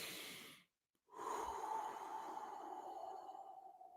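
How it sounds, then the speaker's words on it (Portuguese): Slow, deep abdominal breathing done as an anxiety-calming exercise: a long, soft airy exhale, a brief pause, then a steady, extended inhale, heard close and quiet with no talking. "Respira longo e tranquilo. De forma abdominal, não é de forma torácica."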